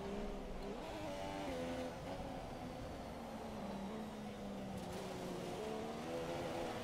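Racing car engine from the F1 2017 video game, heard at the Malaysian Grand Prix, drones steadily throughout with shifting revs and gear changes, loud and continuous with no talk.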